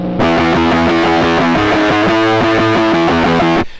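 A distorted electric guitar, a humbucker-equipped Squier run through Logic Pro X stock drive and treble-boost plugins, strums a short burst of loud, fuzzy power chords, close and alone for a few seconds.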